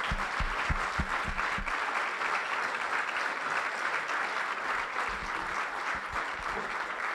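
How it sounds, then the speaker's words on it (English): A sustained round of applause from an audience closing a talk, steady dense clapping throughout, with a few louder individual claps standing out near the start. "Let's give John a big round of applause."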